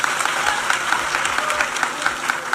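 An audience at a Trinamool Congress political rally in West Bengal breaks into dense, continuous applause, steady clapping filling the whole stretch with a faint murmur of voices beneath.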